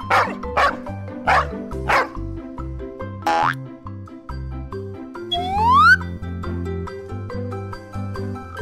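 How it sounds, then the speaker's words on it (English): A dog behind a door barks five sharp times in a quick uneven series, then a springy boing sound follows, all over a bouncy children's music backing track. "There is a dog behind the door."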